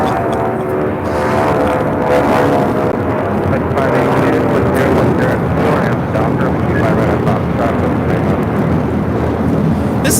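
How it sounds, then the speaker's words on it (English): Delta Airlines Boeing 757-200 on its takeoff run at LAX, a steady, loud broadband jet roar that holds for the whole stretch, with voices talking over it. "This is Delta Airlines 631 taking off to Mexico City today on a 757-200"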